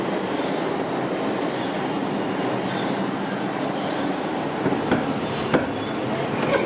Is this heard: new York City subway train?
yes